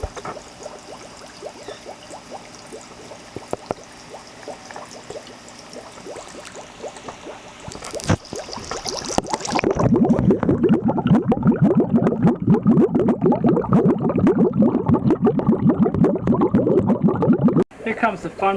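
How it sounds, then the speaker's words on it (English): Water bubbles and gurgles steadily in a freshly set up planted aquarium. The sound is soft at first, then turns louder and denser halfway through, a continuous fizzing churn with a voice talking over it. "The bubbling effect has definitely given the tank a shimmer."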